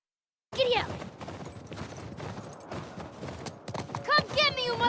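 A horse gallops in The Last of Us with rapid clip-clop hoofbeats that start abruptly after a brief silence, mixed with game sounds and a horse whinny near the end, while people talk over it.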